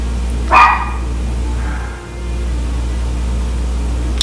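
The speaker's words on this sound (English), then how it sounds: "on cue, barking" A dog named Daisy barks once sharply near the start, then gives a softer, fainter bark a moment later, all against a constant low electrical hum.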